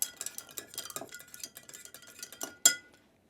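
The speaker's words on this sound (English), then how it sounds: "So, I'm supposed to stir it until it's frosty." Spoon stirring a Coctel Zapopan tequila cocktail over ice in a glass, a rapid run of close light clinks and rattles ending in one sharper chink before falling quiet.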